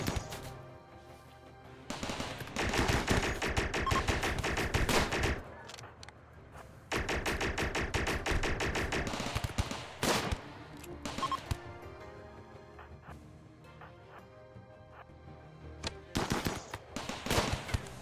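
Gunfire in the RimWorld video game comes as dense bursts of rapid shots in several clusters, loud and close, with brief pauses between volleys and scattered single shots near the end.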